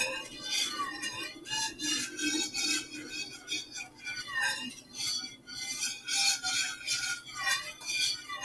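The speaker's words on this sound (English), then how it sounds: "That sounds like an alien or something. The whisk." A wire whisk scraping and rasping against a bowl while mixing macaroni and cheese in a kids' kitchen, a continuous rhythmic squeaky rub with repeated strokes, fairly close, with a bit of talk.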